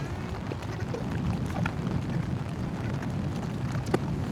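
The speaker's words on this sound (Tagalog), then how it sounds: "Kasi malamig, nakaka-relax yung tunog" Rain falling on a campsite at the foot of Mount Arayat, a steady soft wash of patter with occasional sharper drips, fairly faint and constant.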